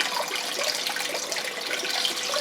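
Water poured into a gold panning container while testing Alaska paydirt, a short, steady splashing pour with a gurgling, bubbly texture, close and alone.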